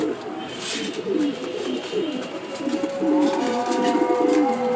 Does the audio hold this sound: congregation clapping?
no